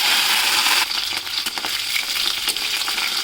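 Cauliflower florets dropped into hot mustard oil with a dried red chilli, panch phoron and cumin seeds, giving a loud bright sizzle that drops after the first second into a crackling, bubbling fry with scattered pops, no voices.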